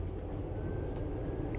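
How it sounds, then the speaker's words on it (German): Greek first-class intercity train running between Athens and Koropi, heard from inside the carriage: a steady low rumble of wheels and track with a faint high whine, continuous and fairly quiet, no talking. "Da können wir nochmal den Original-Zugsound genießen."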